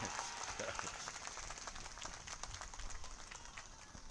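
Scattered clapping and applause from an outdoor political rally crowd at a public meeting in Buxar, Bihar, a faint, distant, continuous patter.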